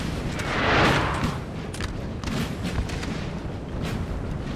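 Cannon and artillery fire in a Napoleon Total War battle between French and Austrian armies at the Mincio River in 1814: a dense, continuous roar of distant booms and crackling volleys, swelling loudest near the start, with no talk.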